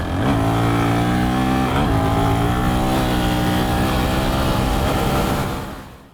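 A Honda CRF450X dirt bike engine running in stock, corked-up form, a loud, steady drone holding one pitch with a slight dip near the start, close by and alone before cutting off at the end.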